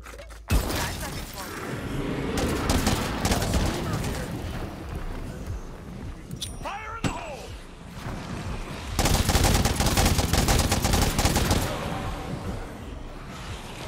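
Sniper support gunfire in State of Decay 2 crackles through a busy firefight, repeated sharp shots and bursts at moderate level, with heavier volleys toward the end.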